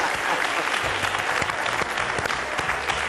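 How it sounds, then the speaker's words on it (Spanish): A studio fan club audience on a Spanish television show claps steadily and loudly, a dense continuous applause with a few sharper individual claps standing out. "tienes a tu club de fan que te aplaude"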